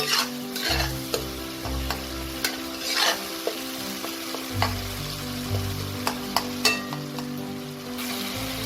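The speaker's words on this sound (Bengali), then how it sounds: "টমেটোটা দেখুন নরম হয়ে গেছে, এটাকে খুন্তি দিয়ে দিয়ে এরকম আরেকটু ম্যাশ করে দিতে হবে" A spatula works softened tomato in a frying pan amid steady, loud sizzling, with scraping and stirring strokes repeating close by and no talking.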